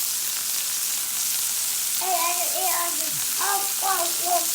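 Onions and bacon cheeseburgers sizzle steadily on a Blackstone griddle, a constant close frying hiss running throughout while voices talk over it.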